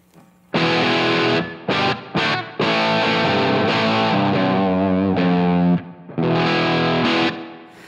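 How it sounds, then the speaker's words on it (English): Electric guitar through a Marshall Plexi Tremolo 50 amp with a 1963 spring reverb plays distorted glam rock chords and riffs, loud and close, with brief gaps between phrases. "I'm also running through a 63 spring reverb to add a nice something-something to the tone"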